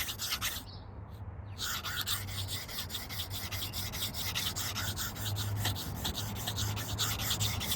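A CPM-10V steel bushcraft knife is stroked repeatedly across a sharpening stone, giving a steady, close rasping rub with a brief pause near the start and a low hum underneath.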